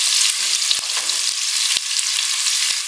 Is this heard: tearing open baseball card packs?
no